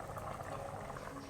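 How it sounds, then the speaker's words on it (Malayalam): Curry boiling in a pot on a stove: a soft, steady bubbling simmer, faint and continuous with no other sounds. "ഈ സാധനം തിളയ്ക്കുന്നുണ്ട്."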